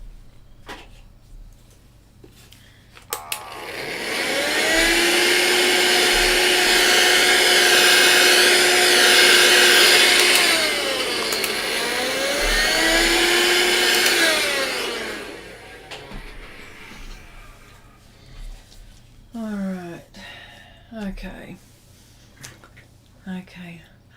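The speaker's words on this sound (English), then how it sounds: "I need to vacuum this." A vacuum cleaner runs loudly for about ten seconds, its steady roar shifting pitch as it moves over a pastel painting surface, then cuts off, leaving quiet room noise and faint handling sounds.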